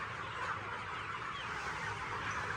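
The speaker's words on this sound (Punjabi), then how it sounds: "ਹੁਣ ਬਾਈ ਪਾਉਣ ਲੱਗਿਆ ਫੀਡ ਆਪਦੇ ਚੂਚਿਆਂ ਨੂੰ ਸਾਰਿਆਂ ਨੂੰ ਮੁਰਗੇ ਮੁਰਗੀਆਂ ਨੂੰ ਦੇਖੋ ਕਿਵੇਂ ਉੱਡੇ ਜਾਂਦੇ" A flock of chickens clucks and squawks together in a dense, continuous chatter, with a busy flutter of activity throughout.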